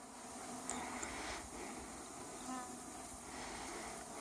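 Honey bees buzz around their hives on a summer day, a faint, continuous droning hum with occasional individual bees passing closer.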